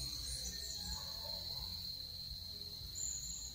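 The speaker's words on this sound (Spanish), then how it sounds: "Oigan cómo suenan las chicharras." Cicadas on a cacao farm in Atomayor del Rey buzz as a steady, loud, continuous drone that runs through the whole stretch with no talking over it.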